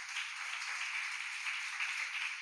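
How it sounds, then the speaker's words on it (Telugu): A worship congregation at Sunday service in Bethel prayer hall, Velanka, claps hands together in a steady, dense patter of applause, moderately loud and sustained without talk. "చప్పట్లు కూడా దేవుని మహిమపరచుదాం"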